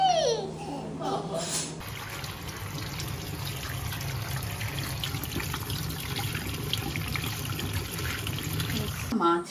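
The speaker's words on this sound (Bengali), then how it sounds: "ভালো করে ধুয়ে নিচ্ছি।" Pieces of fish being washed by hand in water, with continuous splashing and trickling like a running tap in a sink, close and fairly loud.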